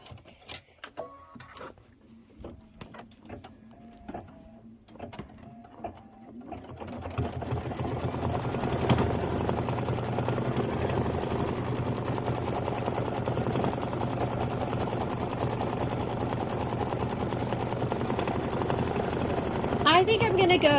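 A sewing machine stitches a quilt filler block, starting with a few short bursts of clicks and then settling into a long, loud, continuous mechanical buzz, with a voice talking early on.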